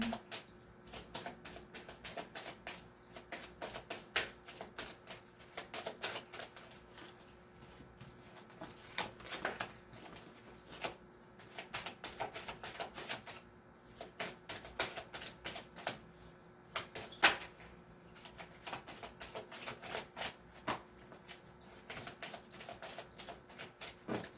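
Tarot cards shuffled and drawn in a quiet room: a long, soft run of dense riffling and flicking card clicks, with faint, scattered taps throughout and no voices.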